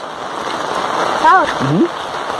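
Heavy rain falls in a steady, dense hiss outdoors on the way to a temple, with a brief voice rising over the downpour partway through.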